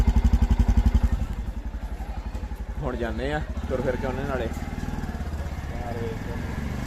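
A motorcycle on a newly fitted tyre rides along with a steady, close engine drone throughout, running under a man's continuous speech.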